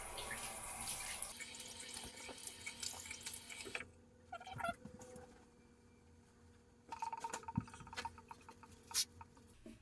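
A bathroom tap runs as a face is rinsed at the sink, producing faint, intermittent splashing and trickling with quieter gaps between bursts of water.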